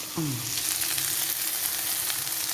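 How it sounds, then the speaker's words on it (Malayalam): Drumstick leaf curry sizzles steadily in a pan as a fork stirs it, with a brief scraping squeak near the start and then a continuous close frying hiss. "ഇനി ഇത് ഞാൻ ഇളക്കി കൊടുക്കുന്ന ഫോർക്ക് കൊണ്ടാണ്."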